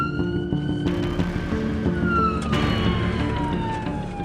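An ambulance siren wails steadily on the road, its tone sliding gradually lower as it passes, over a constant rumble of traffic.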